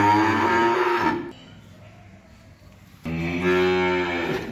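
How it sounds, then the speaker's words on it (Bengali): A nine-month-old heifer calf moos loudly and close by in two long, drawn-out calls separated by a short pause. "এই হলো 4 নাম্বার বকনা বাছুর।"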